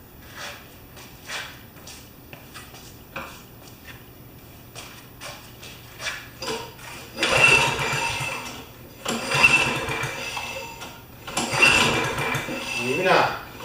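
A Briggs & Stratton Quantum lawn mower engine, converted from choke to primer, gets several short cranking clicks and pulls, then three bursts of rough sputtering attempts to start, with people talking in between.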